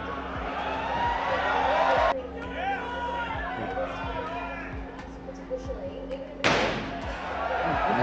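Someone strikes a regular car door several times, producing dull slams and thuds amid crowd chatter, with people talking throughout.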